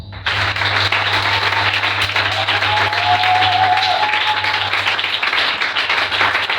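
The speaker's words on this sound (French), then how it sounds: "On peut l'acclamer." A church congregation applauds preacher Rigobert Mwamba with steady, dense clapping that fills the hall from start to finish, and a thin sustained tone rises briefly above it partway through.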